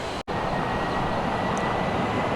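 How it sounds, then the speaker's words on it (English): A Boeing 737-900ER with scimitar winglets on its takeoff roll at an airport, heard as a steady, loud broadband engine roar that holds constant with no voices. "Got a takeoff roll."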